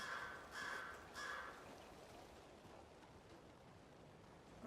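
Three hoarse caws from crows in the video game Alan Wake 2 sound close together at a moderate distance, then fade into a low outdoor ambience.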